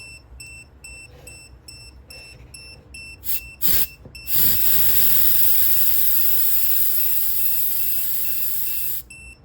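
Rapid electronic beeping from a tire pressure monitoring system on a Honda City, a couple of short bursts, then a sustained loud hiss of air escaping a tire that runs for several seconds before stopping.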